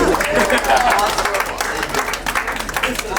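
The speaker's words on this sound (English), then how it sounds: "Applause." Wedding rehearsal dinner guests break into applause: a brief burst of clapping that swells and then fades while voices talk over it.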